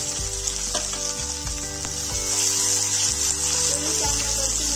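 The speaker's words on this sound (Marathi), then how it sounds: "पेस्ट आपली परतलेली आहे, त्यामध्ये आपण एक बारीक चिरलेला कांदा टाकू," Finely chopped onion being sautéed in a pan with ginger-garlic paste, a steady sizzle of frying with periodic scraping and stirring strokes, close and continuous throughout.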